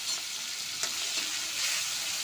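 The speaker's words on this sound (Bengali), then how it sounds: "চিংড়ি মাছ ভাজার জন্য কড়া বসিয়ে দিয়েছি, কড়াটা গরম হয়ে গেছে, সরষের তেলও দিয়ে দিয়েছি" Shrimp rubbed with salt and turmeric fry in hot mustard oil in a wok, making a dense, steady, close-up sizzle with no voices.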